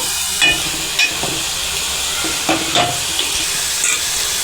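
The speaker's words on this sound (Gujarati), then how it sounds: "આપણે આ રીતે કારેલાને નાખીને ચમચા વડે હલાવી લઈશું. તેને તળાવવા દઈશું." Bitter gourd slices fry in hot oil with a steady sizzle and hiss, while a spoon scrapes and stirs the pan in several distinct strokes.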